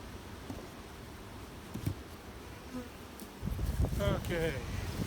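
Honey bees buzzing around an opened hive during fall mite sampling, a soft close drone with individual bees whirring past the microphone, growing busier toward the end.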